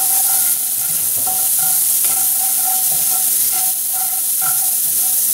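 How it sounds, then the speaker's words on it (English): A New York strip steak pan sizzles loudly as it is deglazed and scraped, a dense, constant hiss with intermittent scraping strokes of a utensil across the bottom, close and alone without talk. "This will help get some of that good flavor off the bottom of this pan."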